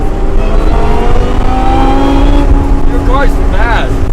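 Supercharged Lamborghini Gallardo Superleggera on a small-town car rally, loud engine drone that rises in pitch as it revs, with sharp rising whines near the end and people talking over it.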